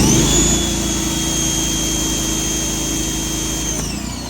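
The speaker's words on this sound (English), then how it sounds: "when I did turn it off, it makes a little bit more louder of a pop noise" A pressure washer for mobile car detailing drones with a loud, steady mechanical whine, then shuts off near the end with a faint pop as the tone drops and winds down.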